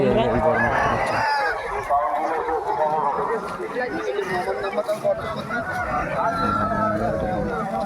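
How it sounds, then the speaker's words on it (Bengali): A rooster crows among chickens and chicks for sale at a village fair, drawn-out calls rising over a crowd's murmur and nearby talking voices. "মোরগের সাইজ দেখো ভাই"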